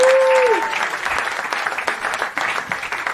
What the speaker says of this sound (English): Please, big round of applause for Alexis Guerreros,